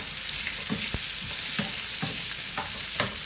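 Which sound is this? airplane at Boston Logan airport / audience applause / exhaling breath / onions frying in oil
onions frying in oil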